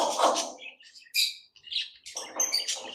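Lovebirds in an aviary colony chirp and tweet in quick overlapping bursts, bright and fairly close, with a busy flurry at the start, a sparser patch in the middle and another dense cluster of calls at the end.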